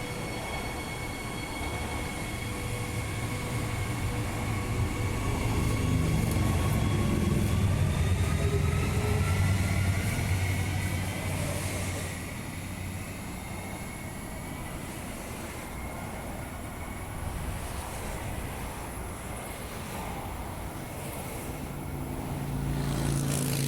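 A Mandurah line train closes its doors and pulls out of the station, with a steady rumble of wheels and motors, rising whine and squeal tones as it gathers speed, and a sustained roar fading slightly into station ambience.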